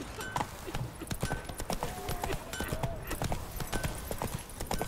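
Horse hooves clip-clop in a steady, quick rhythm in The Witcher 3 video game, fairly quiet and close, with soft ambient game noise underneath.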